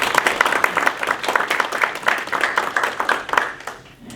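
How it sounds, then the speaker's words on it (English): Luncheon audience applauding event sponsors at a professional development gathering, a room full of hands clapping in a lively, rippling burst that holds for several seconds and then tapers off. "If we give those sponsors a round of applause for their support."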